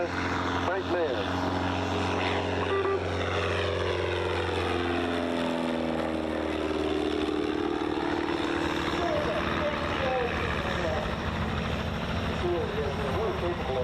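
A propeller aircraft at an air show drones loudly and steadily overhead, its engine pitch sweeping down and back up as it passes, with a commentator talking over it.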